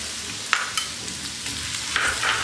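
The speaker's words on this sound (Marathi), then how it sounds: "ते थोडेसे फ्राय करून घ्यायचे आहेत या तेलावर" Dried bombil fish frying in oil with masala paste, a steady close sizzle with a few sharp clinks of a spoon stirring, no voices.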